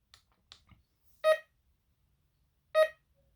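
A Dr. Otek MT-XR metal detector gives two short, loud electronic beeps about a second and a half apart as it powers on, following a few faint clicks in otherwise quiet surroundings.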